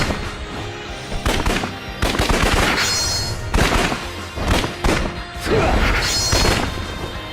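Gunfire in the video game Yakuza 3 as Wesker fires a gun: loud, repeated shots and impacts that come in several dense bursts over the game's background sound.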